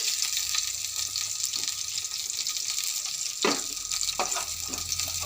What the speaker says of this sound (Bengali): মাছটা এবার আমি তুলে নেব, ভাজা হয়ে গেছে।